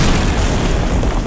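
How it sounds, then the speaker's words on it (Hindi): A loud cartoon bomb blast in an animated comic story, a dense broadband boom that fills the whole moment and stays heavy without pause, with no talk over it. "एक जोरदार धमाका होता है"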